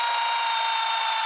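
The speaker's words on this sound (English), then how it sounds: "So we're going to drill through one of them." A loud, steady high-pitched whine of a power drill cutting through material on a Harley-Davidson during speaker installation, continuous and close, with no voices.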